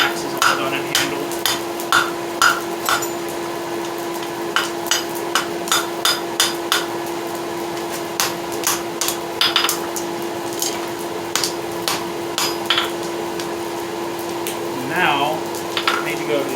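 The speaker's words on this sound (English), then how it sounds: "go to the opposite side of the anvil, be able to forge the other cheek evenly" A hammer strikes a railroad spike being forged into a bearded tomahawk on an anvil. The sharp, ringing metallic blows come in irregular bursts of quick strikes with short pauses, over a steady background hum.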